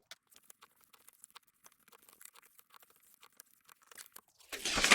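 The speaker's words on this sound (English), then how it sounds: "now fold and burnish all your score lines" Score lines on cardstock being folded and burnished, heard as faint scattered taps and light rubs close by, ending in a loud, dense crunching rub.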